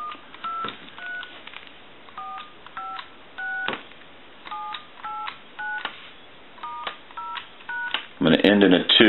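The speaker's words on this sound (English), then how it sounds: "go ahead and dial our numbers out one more time" A Radio Shack Continental 43-330 telephone dials out in touch-tone, a steady series of short dual-pitched beeps in small groups, clear and close, ending with a burst of talking.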